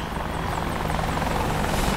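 Steady, close rotor drone and engine whine of an Apache attack helicopter in the DCS flight simulator, continuous and even with no talk.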